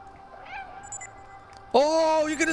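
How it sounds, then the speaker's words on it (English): In the video game Stray, a cat meows loudly and drawn-out near the end, after quieter game ambience with a faint earlier mew. "you can distract them with the meows"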